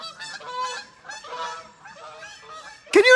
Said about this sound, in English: Do you hear the geese, Aaron?